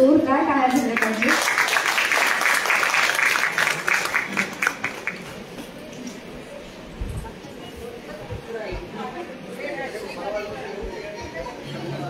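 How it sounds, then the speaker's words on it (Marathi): Audience applause for a classical music performer at an indoor concert in Nashik, loud clapping for the first few seconds that fades into crowd chatter and murmuring. "सरांकरता एका जोरदार टाळ्या झाल्या पाहिजे."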